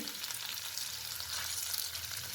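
Curry leaves, green chilli and ginger sizzle steadily in hot oil for tomato saaru, a dense continuous frying hiss up close with no voices.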